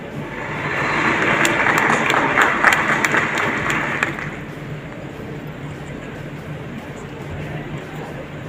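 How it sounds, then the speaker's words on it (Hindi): Audience applause in an auditorium at a Hindi speaker's event, loud sustained clapping for about four seconds that stops abruptly, leaving quiet room tone. "एक बार जोरदार तालियां ताई के लिए।"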